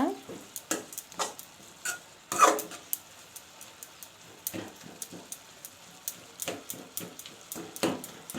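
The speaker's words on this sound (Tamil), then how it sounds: "லோ ஃப்ளேமில் வச்சு நல்லா வதக்குங்க." Murungai greens being sautéed in a pan on a low flame, with repeated spatula scrapes and taps in an irregular rhythm over a soft, quiet sizzle, close and without talk.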